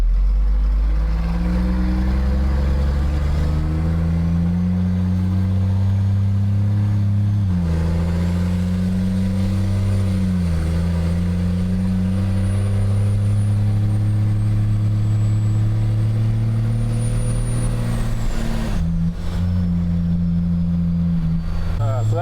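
A Ford F350 truck with a swapped CAT 3126 diesel engine and Allison 2000 transmission drones steadily while driving, a deep low rumble throughout with a brief dip near the end, heard from inside the cab.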